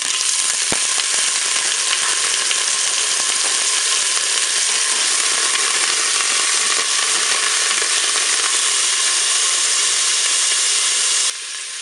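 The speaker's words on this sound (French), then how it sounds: "je vais faire revenir mes boulettes de bœuf. Je vais ajouter également mes oignons." Beef meatballs and onions browning in a Cookeo multicooker, giving a loud, steady, close sizzle and crackle of frying that runs unbroken, then drops off abruptly near the end.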